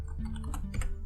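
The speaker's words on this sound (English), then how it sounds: "So here I type the path to the grub we have just installed." Keys tapped quickly on a computer keyboard while a boot path is entered during an Arch Linux UEFI install, soft close clicks over a low steady hum, with no speech.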